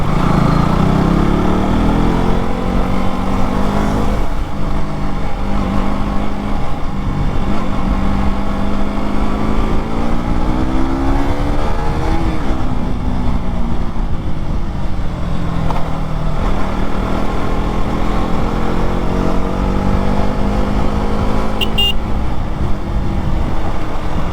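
A KTM RC 200 BS4 motorcycle engine revs loudly and close, its pitch climbing and dropping in repeated sweeps over a constant throaty drone, with no voices.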